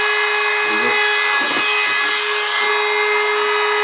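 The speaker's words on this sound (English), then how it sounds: "I'm just going to use a Dremel style rotary tool" A Dremel-style rotary tool sands a small wooden Easter bunny ear, giving a steady high whine with loud, constant grinding and brief scratchy bursts as the bit meets the wood.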